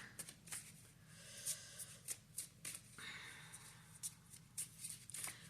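Tarot cards are shuffled by hand, giving soft, quick riffling flicks in an uneven rhythm, close and faint.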